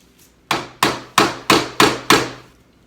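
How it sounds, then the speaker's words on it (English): A hammer strikes a stuck metal piece on an old door, six sharp, loud blows in an even rhythm about a third of a second apart, each ringing briefly before the next. "Let's get a hammer."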